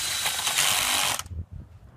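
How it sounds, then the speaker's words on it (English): A cordless drill on torque setting 18 bores into garden soil with a loud whirring ratchet buzz for about a second, then cuts off into a few soft thuds. "Changed the torque setting to 18, and I'm just gonna drill a few holes."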